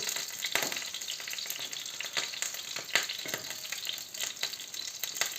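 Steady crackling sizzle of zucchini fritters frying in hot oil, with occasional sharper pops and spatters throughout, close and fairly loud.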